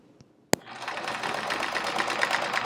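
A sewing machine free motion quilting a chevron quilt starts with a sharp click, then runs in a steady, moderately loud rapid whirr that builds slightly and keeps going.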